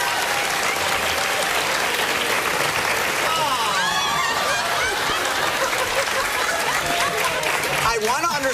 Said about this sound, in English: what exactly you're applauding